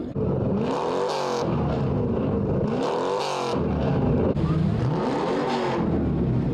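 A 1987 Chevrolet Corvette engine at a car event, loud and close, swelling through three repeated revving surges with rising and falling pitch, no talk over it.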